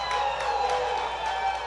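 A crowd applauds and cheers steadily for Donald Trump at his midterm election-night speech, a sustained wash of clapping with some voices mixed in.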